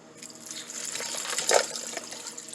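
Water running and splashing softly into a bowl for an ice bath of cut potato wedges, a faint steady trickle with a small splash midway, no talk.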